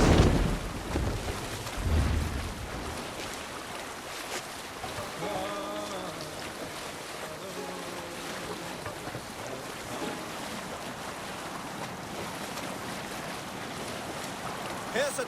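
A sailing longboat in Assassin's Creed Valhalla moves over the ocean, a steady wash of waves, wind and spray throughout, with a faint musical tone and an early low rumble.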